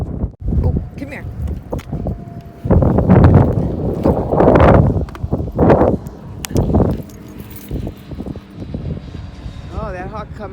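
Strong gusts of wind buffet an outdoor microphone in bursts of rough low rumble, louder in the middle, with a voice speaking between the gusts.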